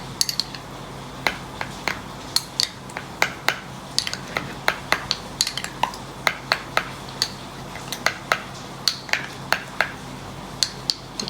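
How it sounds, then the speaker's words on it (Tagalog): Minced garlic being stirred with salt, giving a string of sharp clicks and light scrapes of a utensil against a container at an uneven rhythm, close and fairly faint over a low steady hum. "Tapos haluin para yung yung bawang ay yung asin matunaw"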